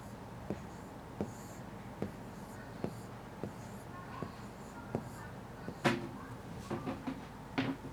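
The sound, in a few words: writing on a board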